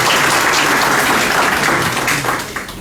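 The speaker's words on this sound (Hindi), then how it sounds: "एक बार जोरदार ताली" Loud, sustained applause from an audience at a public gathering, dense clapping that fills the room and tapers slightly toward the end, with no talk over it.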